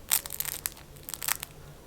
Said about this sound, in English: Let me show how crunchy it is on top.